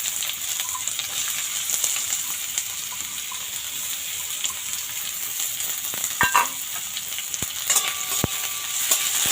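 A large chopped onion fries in a pan for an aloo dum, a constant close sizzle with occasional sharp clicks and a few spoon scrapes.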